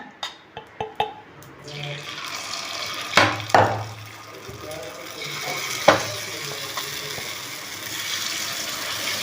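Paniyaram batter fries in oil in a paniyaram pan, a steady sizzle broken by a few sharp clinks and scrapes of a utensil, with louder sizzling bursts as batter lands in the hot wells.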